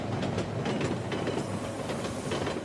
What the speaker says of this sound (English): hanging out of an Indian train is the best feeling in the world.